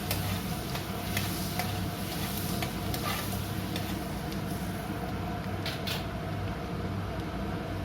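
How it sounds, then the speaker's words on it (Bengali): Chicken pieces are stirred by hand or spoon with chopped garlic and ginger, giving repeated soft squelching and scraping strokes against a bowl over a steady low background hum. "ভালো করে মিক্স করে দিলাম।"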